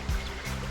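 River water flowing by a cave, a steady, close, continuous wash and gurgle that stays even for the short moment, with a brief low thump near the start.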